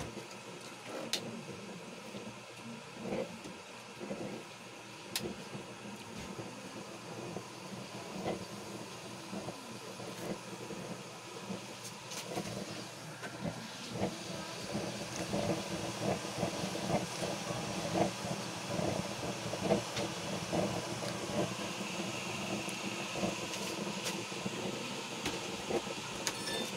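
A blower burner fuelled by used cooking oil roars and hisses steadily with a forced-air rush, punctuated by clicks and rattles, growing slightly louder over time.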